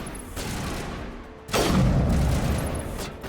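Distant gunfire in Mass Effect Legendary Edition rolls in as a dull, sustained rumble of shots that swells into a louder crackling volley midway and then fades slightly.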